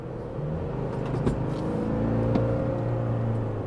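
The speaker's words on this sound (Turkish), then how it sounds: "O motor sesine gürlemeyi biraz duyuyorsunuz" A 2024 Toyota Land Cruiser Prado diesel engine gives a low, steady rumble from inside the cabin while driving, a constant muted drone with slight swells in pitch.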